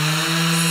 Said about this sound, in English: I'll leave it turned on.